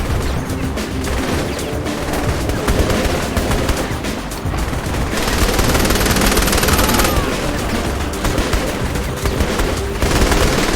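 Sustained heavy gunfire in Saints Row The Third Remastered, dense automatic bursts and crashes blasting almost continuously at close range, loud and unbroken, with little talk.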